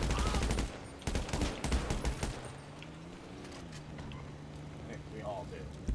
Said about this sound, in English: You better stop firing at me